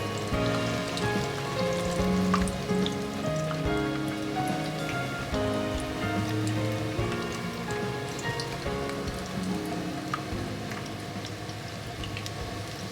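Vegetable tempura of Japanese vegetables frying in oil in a pan, a dense, steady crackle and sizzle of many small pops that fades slightly over time, with no talking.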